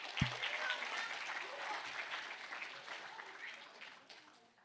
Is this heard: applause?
yes